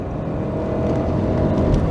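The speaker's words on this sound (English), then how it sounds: "And that engine sounds good. Sounds very good." An MK3 Toyota Supra's turbocharged six-cylinder engine gives a steady, loud, low-pitched drone while driving, heard close from the cabin with no pauses.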